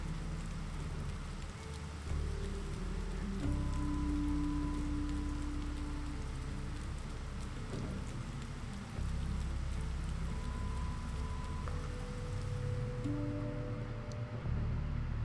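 Steady rain falls over a town in the game Fall of Porcupine, a constant hiss with low rumbling beneath and a few faint tonal game sounds, with no speech.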